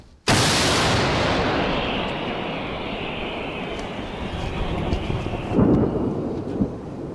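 A single heavy artillery gun fires suddenly and close, then rolls into a long, thunderous rumble that slowly fades, with faint movement noises later.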